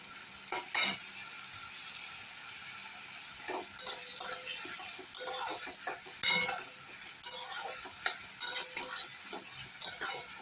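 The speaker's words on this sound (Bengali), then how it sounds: "দুটো মাঝারি সাইজের পেঁয়াজ দিয়েছি, 3টে কাঁচা লঙ্কা নিয়েছি আর রসুন পরিমাণ মতো নিয়ে নিয়েছি। এগুলোকে একটু ভালোভাবে ভেজে নেব।" Onions, green chillies and garlic fry in a wok with a soft continuous sizzle, punctuated by repeated sharp metallic scrapes and clanks of a spatula stirring against the pan, close up.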